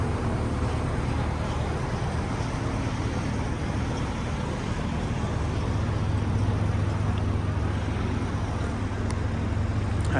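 Steady roar of road traffic passing near a harbourside construction site, a dense continuous wash of engine and tyre noise with no quiet gaps.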